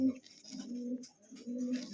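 Fancy pigeons cooing close by, a couple of low, throaty rolling coos separated by a short pause, with faint background noise and no talk.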